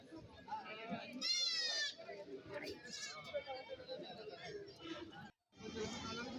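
Several goats bleat in quavering cries amid crowd chatter and people talking at an early-morning goat market in Kerala, a busy outdoor gathering of animals and voices.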